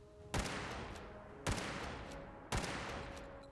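Gnasher shotgun from a Gears of War weapons mod for Fallout 4, fired three times at an even, unhurried pace, each blast sharp and punchy with a long reverberant decay, alone without talk.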